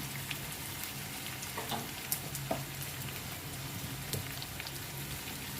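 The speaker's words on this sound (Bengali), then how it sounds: "আদা রসুনটাকে আর লঙ্কাটাকে ভালো করে একটুখানি কষে নিয়ে একটু হলুদ গুঁড়ো দিয়ে দিলাম" Ginger, garlic and green chili sautéing in oil with turmeric, a faint, steady sizzle with scattered small pops and spatters close by.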